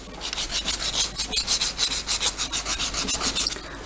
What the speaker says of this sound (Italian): Ora con una lima, però della grana molto fine, inizio a fare questo movimento, prima da un lato, poi dall'altro